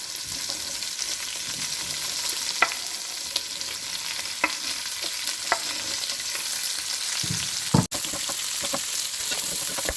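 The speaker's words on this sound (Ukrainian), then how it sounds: "Додаємо морку і цибулю і обсмажуємо" Carrots and onion fry in a pan with a steady broadband sizzle, broken by occasional sharp clicks and stirring knocks, including one louder clatter near the end; no talking.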